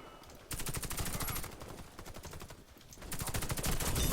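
Rapid bursts of automatic gunfire from a PvP match in the shooter game Warface, rattling in dense strings with a brief lull mid-clip, then resuming loud and steady.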